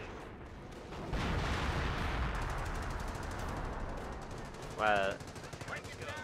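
Machine gun fire from an MG team in the Company of Heroes video game, set on Hill 317: rapid bursts of gunfire over a rumbling battlefield backdrop, with a brief voice speaking and a sharp louder crack near the end.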